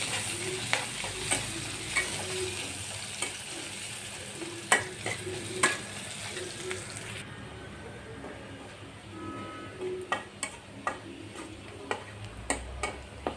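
Chopped onion and garlic frying until brown, a steady sizzle with frequent sharp spatula taps against the pan, the hiss thinning partway through while the clicks continue.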